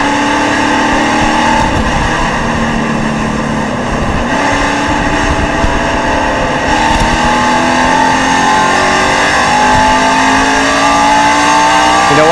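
Race cars accelerate hard on a restart at Fontana during the 2006 Sony HD 500, a loud, continuous engine roar with rising pitch sweeps as several cars pull away together, close and steady throughout.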